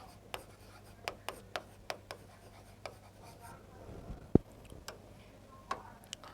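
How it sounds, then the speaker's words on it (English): Handwriting during a mathematical logic lecture: quiet, irregular taps and short scratches of a writing tool on a surface, spaced over several seconds against a faint background hum. "Let me write simple sentences to understand, to make you understand"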